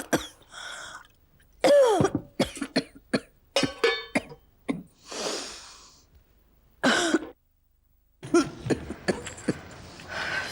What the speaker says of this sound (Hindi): अरे तुझे तो बहुत खांसी हो रही है पुत्र।